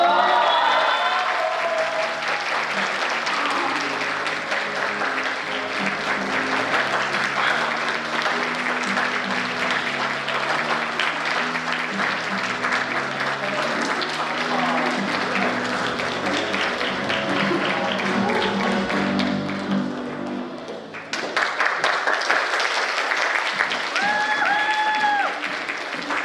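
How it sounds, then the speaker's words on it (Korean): Audience at a student mock parliament event applauding after a play, loud continuous clapping from a full room that dips briefly before a final burst. "여러분 멋진 연극을 펼쳐준 정치외교학과 학우분들에게 다시 한번 뜨거운 박수 부탁드립니다."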